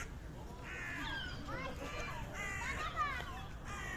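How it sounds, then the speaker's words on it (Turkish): Seagulls call repeatedly in a park, with several sharp, rising cries close by layered over children and adults talking and outdoor background noise. "Pis martı."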